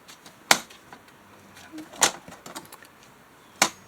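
Scissors cutting paper for a Dutch door interactive pocket page, three sharp crisp snips spaced about a second and a half apart, close and clear against a quiet room.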